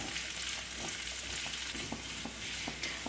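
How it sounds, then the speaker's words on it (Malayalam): Shallots and curry leaves frying in a pan, a steady close sizzle and crackle throughout with occasional stirring scrapes. "ഈ ചെറിയുള്ളി നമുക്ക് നന്നായിട്ടൊന്ന് മൂപ്പിച്ചെടുക്കണം"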